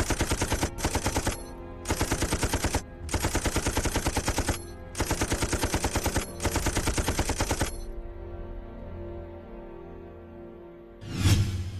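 Sustained automatic gunfire in a war-film sniper scene set during the Sino-Japanese war, loud close bursts of machine-gun fire in several long volleys separated by short gaps, then a lingering decay before a final blast.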